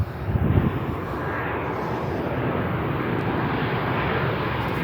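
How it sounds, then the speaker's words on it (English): Passenger jet roaring in on its landing approach, loud and close, a broad steady rumble that swells early and then holds as a sustained engine drone. "let's watch some planes come in"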